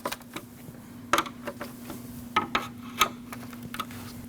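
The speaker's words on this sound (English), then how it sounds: "Now install your 4 Phillips screws, and tighten those down." Phillips screws being tightened by screwdriver into the grille of a 2012-2016 Honda CR-V, giving a few faint, sparse clicks and ratcheting ticks over a low steady hum, with no talking.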